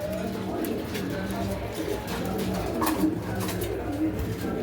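Soft, low pigeon coos repeat amid a steady murmur of background noise, with some talking mixed in.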